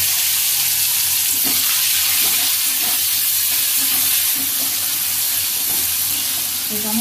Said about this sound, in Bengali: তো টমেটো দিলে প্রচুর তেল ছিটতে হবে